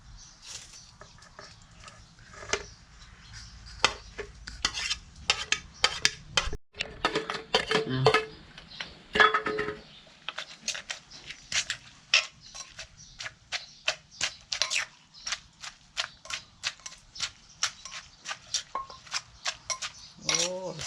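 Papaya salad (som tam) pounded in a mortar outdoors: a steady series of close, sharp wooden thuds and knocks, irregular at first and then settling into a regular rhythm, with brief voices in between.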